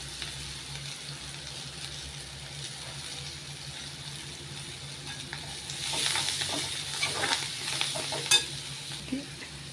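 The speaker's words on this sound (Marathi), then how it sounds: "आता आपण मेथीची भाजी ह्याच्यात टाकणार आहे." Fenugreek greens going into a pan of toor dal with tomato and spices, stirred and frying with a steady close sizzle and scraping that swells louder in the second half.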